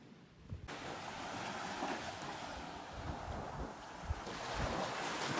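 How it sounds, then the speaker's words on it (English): Surf rolls onto a beach in Mexico as a steady, fairly loud wash of breaking waves, with wind buffeting the microphone throughout and no voices. "now I'm just arriving to the beach"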